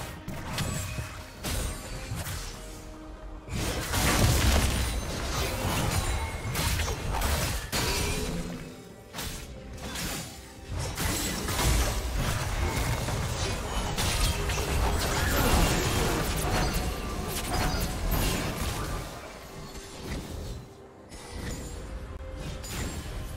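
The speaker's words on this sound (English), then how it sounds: "Red team's turret has been destroyed." A turret in League of Legends crumbles under attack, with repeated crashing, shattering impacts and mechanical clatter over constant battle noise and music, swelling and easing across twenty-odd seconds.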